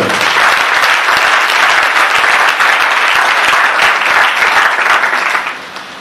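A church congregation at a Christmas Eve vigil breaks into loud, sustained applause that fills the hall, steady for several seconds before fading at the end.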